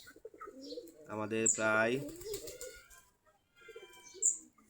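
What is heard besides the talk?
native Giribaz pigeons cooing while eating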